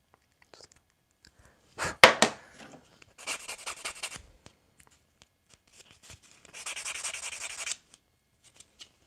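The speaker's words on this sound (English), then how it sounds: "I don't know why I grabbed my other sanding block." A sanding block is worked by hand in short bursts of scratchy rubbing strokes, with quiet pauses between them, close and with no talking.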